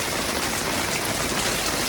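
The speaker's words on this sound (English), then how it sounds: "This really heavy rain is absolutely showing up a big problem we've got here in this corner of the house." Heavy rain pouring down at a house under renovation, a dense, loud, unbroken hiss of a downpour drumming steadily on surfaces with no gaps.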